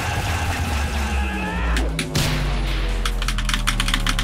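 A computer keyboard gets hammered hard, with a cluster of loud clacks in the middle and then a rapid run of sharp key strikes near the end, over a steady game soundtrack.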